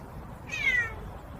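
A single short meow-like call, clear and fairly close over a steady background hum; the parrot that imitates a cat may be the source.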